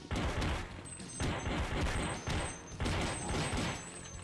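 Gunfire in the Crazy Flasher 6 video game rattles on as dense, repeated bursts of shots in several waves, loud and continuous with a few high electronic tones over it.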